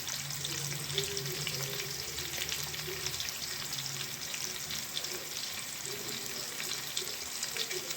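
Cabbage curry base frying in a pan, a continuous soft crackling sizzle at moderate distance with a low steady hum underneath and no voices.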